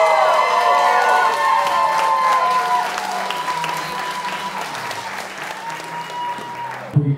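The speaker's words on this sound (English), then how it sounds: "Will you please give a round of applause for Mr. and Mrs. Travis Rush?" Guests applaud and cheer newlyweds Mr. and Mrs. Travis Rush right after a wedding ceremony, loud crowd clapping with whoops and children's shouts, gradually thinning out over several seconds.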